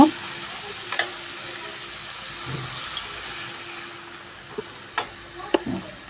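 Chicken sizzling and frying in a pot of cooked-down spiced masala for morog polao, a continuous hiss with a few sharp clinks and knocks from a utensil, nearby with no talking.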